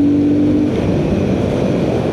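A Royal Enfield Guerrilla 450 single-cylinder motorcycle engine runs loud and close, holding a steady throbbing rev with a low pulsing drone and no voices.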